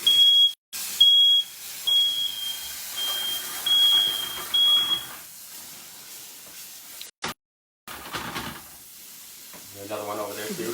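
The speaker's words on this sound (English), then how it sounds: "And there goes the fire alarm." Beside frying food in a home kitchen, a smoke alarm gives a high, piercing electronic tone in several separate beeps. A hiss and sizzle from the pan carries on underneath, and a voice comes in near the end.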